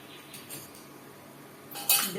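Coffee powder is pressed down into a metal coffee filter with a tool, giving soft scraping and light metallic clinks, ending in a brighter clatter.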